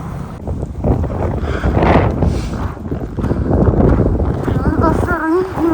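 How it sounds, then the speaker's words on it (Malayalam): Strong gusting wind blows during a snowstorm in Canada, roaring against the microphone in heavy buffeting waves, with a brief whistling tone near the end. "നല്ല കാറ്റുണ്ട്. ഇവിടെ ഫുള്ള് മഞ്ഞായി."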